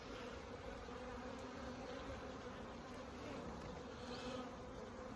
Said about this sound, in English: I try to be really careful with the bees.